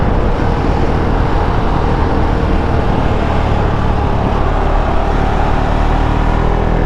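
Husqvarna Svartpilen 701 single-cylinder motorcycle engine running steadily and close, a dense, continuous low rumble that holds an even level throughout with no talk over it.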